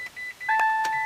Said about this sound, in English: foot on the brake, turn and hold,